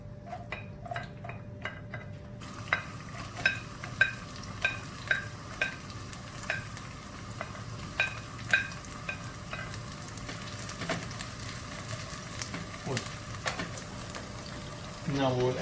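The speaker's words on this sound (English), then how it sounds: "We'll make the Musakaa using Altes extra virgin olive oil. We will saute the garlic." Garlic sautés in extra virgin olive oil for an eggplant moussaka, a soft continuous sizzle punctuated by repeated clinks and scrapes of a utensil stirring the pan.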